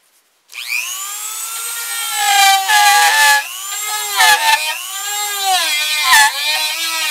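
Power drill countersinking a screw hole in a wooden ventriloquist dummy, a close whining motor that spins up sharply and then bogs and surges in pitch as the bit bites into the wood several times.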